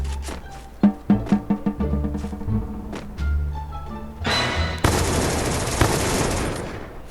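Gunfire in the battle royale game Free Fire, a quick string of sharp single shots followed by sustained loud automatic bursts and impacts, close and intense with no talking.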